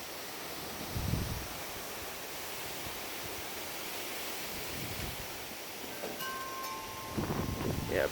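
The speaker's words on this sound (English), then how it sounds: "Yeah, pretty good wind gusts right now." Strong, steady wind gusts from the tail end of a derecho storm in Kentucky roar outdoors as a broad, continuous rush, with a few louder surges and faint distant tones.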